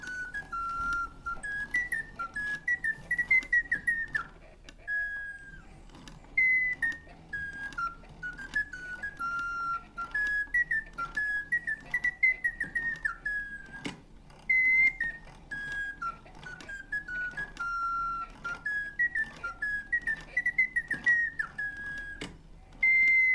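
A rare antique French automaton whistles an actual tune, a thin, clear mechanical whistle running through repeated melodic phrases with steady clicking and whirring of its mechanism underneath, close and moderately quiet, no talking.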